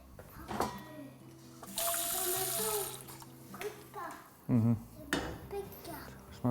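Water is poured from a tap into a sauce of mushroom stock, light soy and fish sauce, a steady splashing run partway through, with a voice talking in between and other kitchen noise.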